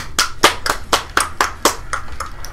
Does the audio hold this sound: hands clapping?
yes